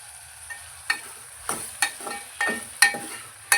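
Onion, tomato, potato and drumstick pieces fry in a pan for sambar, with a steady soft sizzle broken by sharp scraping stirs about every half second, close-up, with no talking.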